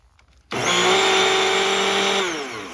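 A free electric rototiller powered from a solar battery bank starts abruptly and runs with a loud, steady motor whine and rattling drive, then begins to wind down near the end.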